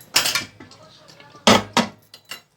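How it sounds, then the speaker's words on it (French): Several short scraping and clattering bursts, like grains being scooped and dropped into a metal pot, close by with pauses between. "il ne reste plus qu'à le mettre dans le couscoussier"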